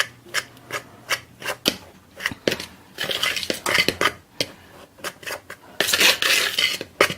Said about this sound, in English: I'm just going to kind of mix this around with a fork so everything gets incorporated into the flour